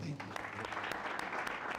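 A business masterclass panel audience gives scattered applause for a panelist named Brian, thin and fairly quiet, with separate claps standing out and talk running alongside.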